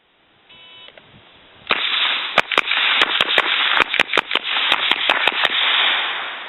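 Supersonic rifle rounds fired in a rapid drill: a long run of sharp cracks in quick irregular succession, about a dozen shots over a few seconds, loud and close against a steady broadband background roar.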